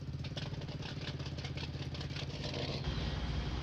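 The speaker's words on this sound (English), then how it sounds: "here we got one of my favorite tractors here, the Steiger, the Turbo Tiger. This thing is a giant. We got it pulling a small disc here." A Steiger Turbo Tiger tractor engine in Farming Simulator 19 pulling a small disc: a deep, steady diesel drone with a rhythmic clattering throb, continuous and moderately close, swelling slightly louder toward the end.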